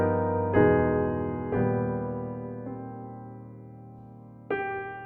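A short sequence of sustained piano chords, four struck one after another with rich jazzy harmonies including a sharp-five chord, ringing and fading between strikes.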